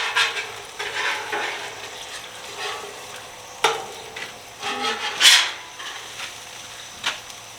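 Egg yolks being broken up with a utensil in a pan of sizzling onions, giving soft scraping and stirring strokes over a low background sizzle, with a sharper scrape near the middle.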